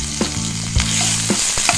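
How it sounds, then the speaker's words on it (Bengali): Sliced onions frying in a pan for a bhindi masala, a loud, steady sizzle with a few clatters of stirring, with no talking. "পেঁয়াজটা হালকা একটু নরম হয়ে যাওয়া পর্যন্ত আমি ভেজে নেব।"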